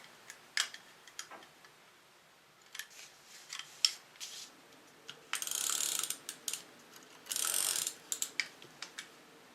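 Double-sided adhesive is rolled onto designer paper for a handmade card, giving quiet close clicks and ratcheting ticks with a few longer rasping bursts of tape running out; no speech.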